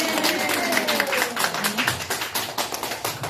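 Church audience clapping in a dense, steady patter, individual claps growing sharper and more distinct toward the end.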